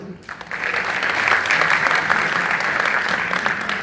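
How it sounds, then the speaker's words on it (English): Crowd at a temple society's annual Mariammen prayer event applauds the organising team, a loud, full round of clapping that swells after a brief quiet start and holds steady throughout. "can I please get a huge round of applause for Ms. Nirmala Tor"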